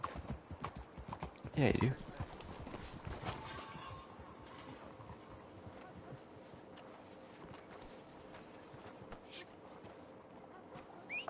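Horse hooves clip-clop in Red Dead Online, a quiet trot with a louder burst near the start, heard under someone talking and faint wind.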